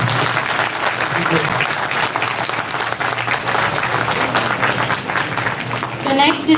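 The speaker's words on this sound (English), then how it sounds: "We need more applause." Loud, sustained applause from an audience at a national-level MBA fest, continuous dense clapping throughout, with a voice briefly speaking over it near the end.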